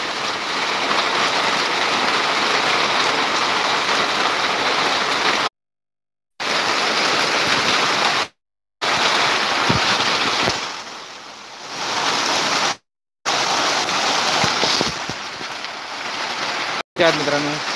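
Heavy rain falls with a dense, steady hiss that cuts out abruptly several times. A voice talks over it in places.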